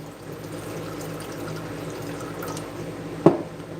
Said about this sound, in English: we're going to add 1/2 cup of raw apple cider vinegar